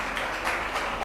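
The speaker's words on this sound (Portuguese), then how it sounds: "Aplausos" Congregation applauding during a family church service, a dense steady wash of many hands clapping that fills the space, cut off abruptly at the end.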